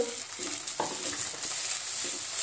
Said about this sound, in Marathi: इथे आपण साबुदाणा परतत आहोत